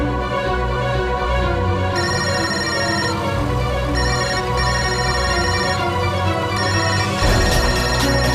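A telephone rings in a home during a Hindi family drama, its electronic ringtone sounding in repeated bursts with brief gaps, steady and fairly loud, with no voices over it.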